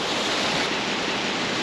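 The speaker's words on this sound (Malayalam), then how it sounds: "ഈ വെള്ളം ഇങ്ങനെ ഒഴുകിപ്പോയി ഈ തോട്ടിലൂടെ പോയി" Rushing stream water after heavy rain near the Oliyath Dam waterfall, a dense, steady roar of flowing water filling the short span without pauses.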